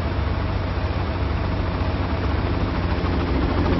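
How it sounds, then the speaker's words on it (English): A helicopter hovers directly overhead in the video game Far Cry, producing a loud, dense, unbroken rotor and engine roar that fills the whole moment. "There's a helicopter right on top of me."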